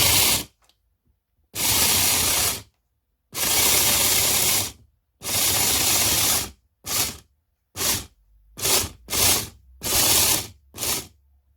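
A robot prototype driven by linear actuators, with an M4 bolt moving a nut, whirs in repeated bursts of motor drive: several long runs followed by quicker, shorter ones, separated by silence.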